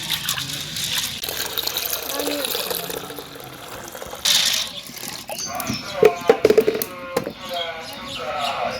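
Chickpeas being washed by hand in water in a pot, with continuous sloshing and splashing up close, a brief gush partway through, and someone talking over the water.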